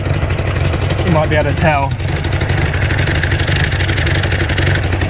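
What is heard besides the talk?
MGB GT engine idling cold with a leaking exhaust gasket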